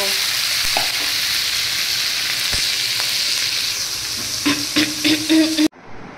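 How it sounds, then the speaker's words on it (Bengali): Potato, pumpkin and carrot stir-frying in a wok with five-spice and a dried chilli for Bengali chorchori, giving a loud continuous sizzle with stirring clatter near the end before it cuts off abruptly. "তারপর কড়াই 5 ফোড়ন দিয়ে একটা শুকনো লঙ্কা দিয়ে আলু, কুমড়ো, গাজর, আমরা সব সবজি সাবজা দিয়ে চচ্চড়ি"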